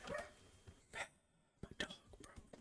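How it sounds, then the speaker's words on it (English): A dog barks indoors in a few short, separate yips and barks, faint and somewhat distant, with quiet breaths and room noise between them. "My dog started barking."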